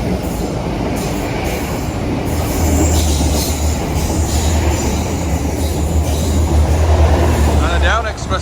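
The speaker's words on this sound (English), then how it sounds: "there's an express coming through just ahead of the Wigan train." An express train roars past steadily near Adlington and Blackrod, England, with rumbling wheels and a rising squeal of metal near the end, loud and close throughout.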